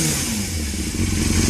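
Engine of a 2000 Yamaha YZF600R Thundercat with a Yoshimura exhaust runs loud and close, a steady rough drone with a clattering mechanical noise riding on it.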